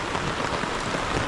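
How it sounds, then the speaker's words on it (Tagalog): Heavy typhoon rain pours down at a riverside campsite, a dense, loud, continuous hiss of water with no pauses. "So, sobrang lakas ng ulan."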